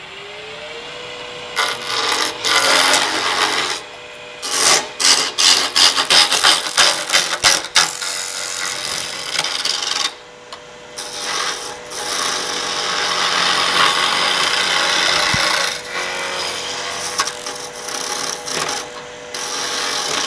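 A wide skew chisel cuts a spinning wood blank round on a lathe at a woodturning demo, giving intermittent scraping and rasping bursts that stop and start over a steady motor hum, close and moderately loud.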